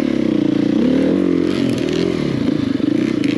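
Enduro dirt bike revving hard while stuck, pushed with a knee on the seat to drive the tire into the ground, a loud close engine roar with warbling pitch and scraping, clattering grit.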